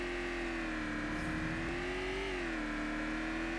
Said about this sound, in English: I know the car sounds are horrible.